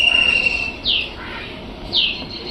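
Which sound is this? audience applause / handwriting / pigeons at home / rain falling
pigeons at home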